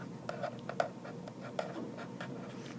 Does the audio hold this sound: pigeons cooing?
no